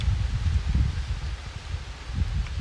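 Wind gusts stir dry leaves in a rubber plantation, producing uneven rustling bursts over low, rumbling wind buffeting the microphone, fairly loud and close, with no voices.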